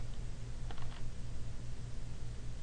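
Fingers type on a computer keyboard while someone edits a Linux Bash prompt setting, a short burst of faint, close key clicks over a steady hum, then just the hum.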